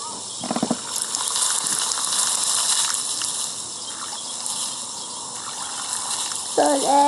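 Water gushing steadily from a hose or tap while plants are watered, a constant loud rushing spray with a few brief clicks and clanks over it.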